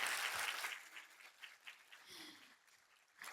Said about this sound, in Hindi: फिर से एक बार जोरदार तालियां हो जाएं।